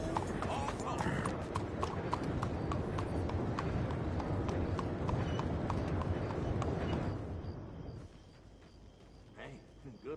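Rapid hoofbeats of a galloping horse in Red Dead Redemption II clatter for several seconds, then slow and fade, leaving quieter sounds.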